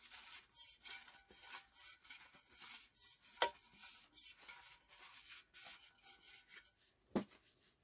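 Turntable parts of a Pioneer PL-512 being wiped clean of old belt residue, soft close rubbing strokes repeating steadily with a couple of sharper taps, alone without talk.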